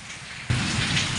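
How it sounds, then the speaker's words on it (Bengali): Heavy evening rain pours down in a dense, steady roar close by, suddenly swelling louder halfway through with a low rumble of thunder underneath. "এই দেখো বৃষ্টি হচ্ছে আর মেঘ ডাকছে প্রচণ্ড।"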